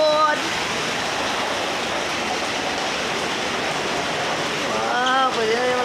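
Water from a waterfall feature pours steadily into a home swimming pool, a continuous broadband rush close by, with children's voices chattering briefly at the start and again near the end.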